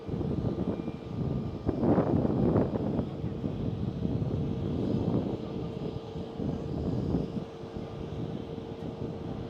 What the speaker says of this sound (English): This 737 MAX 8 of TUI should be ready to taxi out